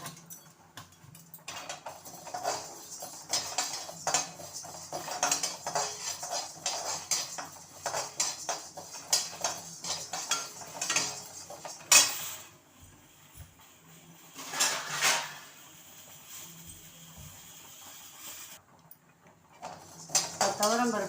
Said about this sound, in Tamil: இப்போ இதை எடுத்துட்டு துவரம் பருப்பை வறுத்துக்கலாம்.